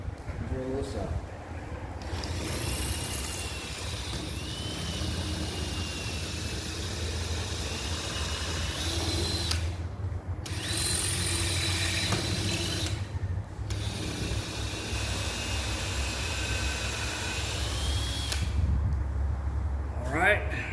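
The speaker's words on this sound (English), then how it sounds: "Drill this out." Drilling out a screw on a vintage camper door: a power drill whines in several bursts with short pauses between, grinding against the wood and metal close up, while someone talks intermittently.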